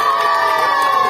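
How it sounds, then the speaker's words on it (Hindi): A crowd of children at a magic show shouts and cheers loudly, a dense, continuous roar of young voices with no pause. "एक बार सब बच्चे हल्ला करके ताली लगाओ"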